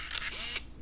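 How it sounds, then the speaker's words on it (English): Contax T2 point-and-shoot film camera firing its shutter, a single quick mechanical click-and-whir lasting under a second, close and fairly quiet with no talking. "Let's see if I can fire the shutter."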